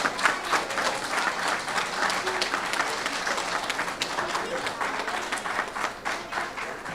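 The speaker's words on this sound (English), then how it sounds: "please stand and we'll give you a round of applause" Students at a third-grade school awards ceremony stand while the audience gives them a round of applause. The clapping is sustained and fairly loud, with many hands in a room, and it carries on for several seconds.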